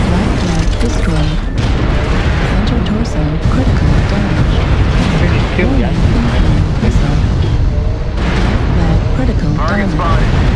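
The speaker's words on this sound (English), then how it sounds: "The enemy is targeting us with satellite and artillery." Artillery and missile explosions in the mech combat game MechWarrior Online, a dense barrage of loud booms and rumbling impacts rolling continuously, with game voice alerts and clicks layered over the blasts.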